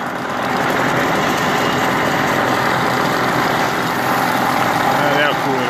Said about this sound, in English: I'm gonna take my disc grinder and just cut that down on the sides